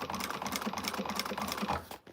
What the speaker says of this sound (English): I can sew my top stitching